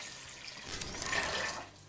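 Water is poured into a pot of overnight-soaked beans for charro beans, a short close splashing and trickling pour that swells and then tapers off.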